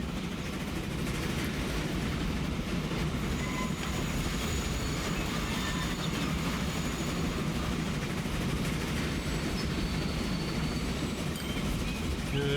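A freight train in Transport Fever rolls along with a steady, dense rumble that stays even and unbroken, with faint wheel squeal and no talking.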